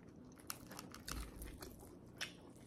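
Close, quiet crunchy chewing of crispy fried chicken with several distinct crisp bites and munching sounds, no talking.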